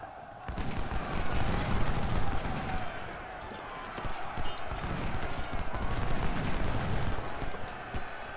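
Booming artillery and crackling musket volleys from the Civil War battle game Ultimate General: Civil War, First Bull Run, roll on continuously, loud and layered with sharp reports over a rumbling low din.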